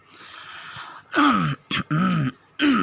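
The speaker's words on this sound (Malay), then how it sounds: "Batuk cikgu." A teacher clears their throat several times in a row during a lesson, rough raspy bursts with short pauses between, close to the mic.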